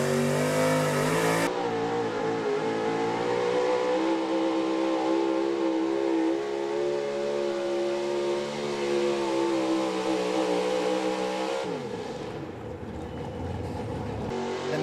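A pulling truck at an Appalachian truck pull revs hard in a loud, steady roar, its engine note holding high before a sudden change and dip near the end, with no talk.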